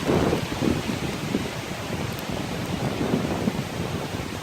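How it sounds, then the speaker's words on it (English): Strong wind roars through the woods in a continuous loud rush with surging gusts, no voices. "And holy crap, it's windy."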